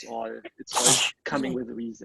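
A single close, loud sneeze bursts out between stretches of talking in an event session room.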